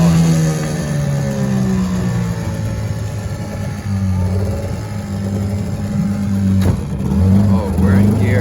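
The engine of a small lobster boat running in gear gives a loud, steady, close drone with slight swells in pitch, and people talk over it.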